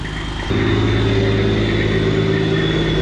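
A loud Detroit diesel truck engine runs nearby, its rumble rising slightly after a moment and then holding a steady, throbbing drone.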